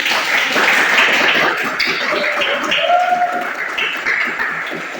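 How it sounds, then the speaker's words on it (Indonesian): A class applauds group discussion results, a steady burst of many hands clapping at close range that eases slightly partway through, with a voice speaking over it. "Tepuk tangan sekali lagi."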